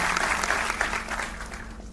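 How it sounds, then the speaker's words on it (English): An audience claps steadily in a hall at a commemorative event for Lokmanya Tilak, welcoming a new school principal: a moderately loud, continuous patter that tapers slightly toward the end. "so please give him a round of applause."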